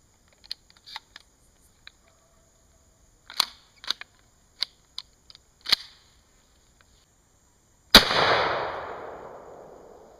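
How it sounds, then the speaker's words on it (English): A single sharp shotgun blast of a birdshot round, loud and close, with a long decaying boom after several faint mechanical clicks and handling noises. "When you're at close range, the shotgun is an excellent tool, and that was just birdshot."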